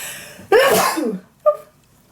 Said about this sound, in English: And now I have to sneeze.